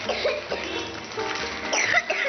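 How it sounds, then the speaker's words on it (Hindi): Several harsh coughs in quick succession, close and fairly loud, with brief pauses between bursts. "हमारी खांसी थोड़ी बढ़ गई है"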